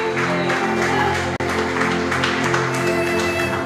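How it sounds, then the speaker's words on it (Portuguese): An audience claps in a church during a Portuguese-language sermon, a continuous full wash of applause with a sustained tonal drone underneath and one brief dropout midway. "Aplauda o nome dele."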